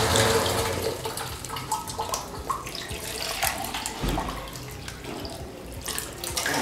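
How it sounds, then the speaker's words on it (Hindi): Water poured steadily into a one-litre syrup mixture for a drink-selling business, a continuous splashing pour that runs loud and close throughout with little variation. "अच्छा, 3 लीटर वाटर डालना अपने को, 1 लीटर सिरप और 3 लीटर वाटर।"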